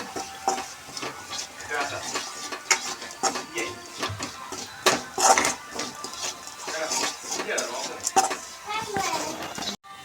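Chilli powder and coriander powder stirred and roasted in a pan for an achar, with a spoon scraping and clinking against the metal and a light sizzle, close and busy, while a voice talks in the background.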